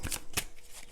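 Tarot cards riffled and flicked in two quick bursts close up, crisp papery snaps followed by quieter handling of the deck.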